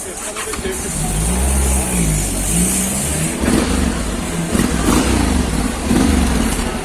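A Honda X-ADV motor scooter engine idles then revs up and down several times, close and loud, with people talking over it.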